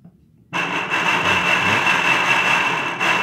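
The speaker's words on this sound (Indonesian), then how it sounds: "Ini bisa terdengar ya, pompanya nyendat-nyendat atau kalau bahasa motor itu berebet." A pump motor starts abruptly and runs with a loud, steady mechanical hum, with a dip and surge near the end as its speed is adjusted and it stutters.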